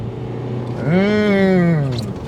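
Honda Accord Euro CN1 diesel with a 5-speed manual, engine note rising as it accelerates from low RPM, a smooth climbing drone heard from inside the car.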